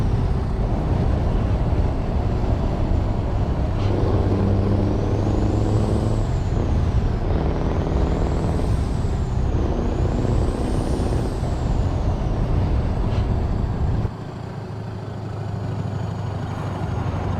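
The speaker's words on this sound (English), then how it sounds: "Let's wind the windows down so you can have a listen to the engine properly and the jake brake." A heavy truck engine in American Truck Simulator drones loudly and steadily, with repeated rising-and-falling jake brake whines, then the engine note drops and rumbles on more quietly.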